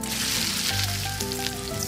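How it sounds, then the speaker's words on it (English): A burger patty fries in a pan with a loud, steady sizzle close by, broadband crackle running throughout with no talking. "am cooking the patty now."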